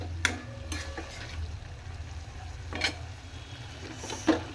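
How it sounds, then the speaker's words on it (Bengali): Tomato sautéing in a pan with chili paste, ginger and garlic paste, a quiet low sizzle broken by a few sharp spatula scrapes and taps, with no talking. "তারপরে আমি দিয়ে দিলাম টমেটোটা। এবার টমেটোটাকে আমি কষে নেব।"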